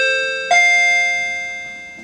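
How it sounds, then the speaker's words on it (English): Electronic chime marking the move to the examination stage in a hospital exam setting: two sustained ringing tones, the second struck at half a second, loud and close, decaying slowly with no speech. "At 10 minutes, you will hear a chime."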